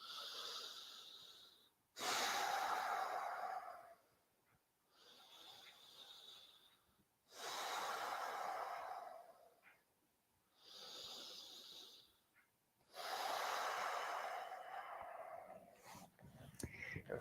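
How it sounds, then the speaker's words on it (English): Slow, deep breaths taken while resting in child's pose on a mat after a workout, long audible inhales and exhales alternating with quiet pauses, close and steady. "Big breaths."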